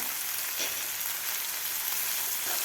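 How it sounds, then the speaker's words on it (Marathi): Turmeric and garam masala sizzle in a pan for sweet corn poha, giving a steady, loud, close frying hiss that runs without a break. "व्यवस्थित परतून घ्यायचं आपल्याला गरम मसाला खूप छान लागतो"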